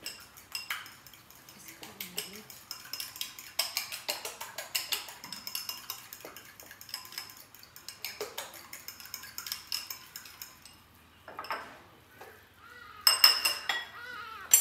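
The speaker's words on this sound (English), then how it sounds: "I'm going to just quickly whip up this egg." Egg whisked in a bowl with a utensil, giving rapid light clinking and tapping against the dish in uneven bursts, with a few quiet gaps and a sharper flurry near the end.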